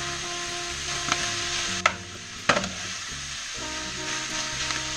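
Sausage, onions and broccoli rabe sizzle steadily in a hot pan, with a few sharp knocks and scrapes as they are stirred and mixed, no voices over the frying.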